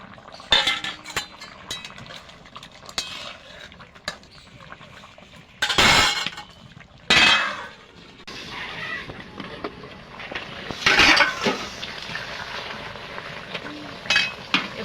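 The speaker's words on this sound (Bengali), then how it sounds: "আমি এবার মাছটা দিয়ে দেব।" Fish pieces going into a pot of simmering potato curry (macher jhol), with metallic clinks and scrapes of a utensil against the pot and a few louder clattering bursts, no voices.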